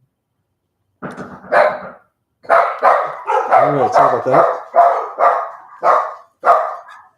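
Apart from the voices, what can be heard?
dogs barking after a knock at the door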